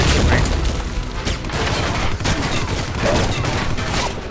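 Dense, loud gunfire and booms from a firefight in the video game Alpha Protocol, continuous across the whole stretch, with speech mixed in.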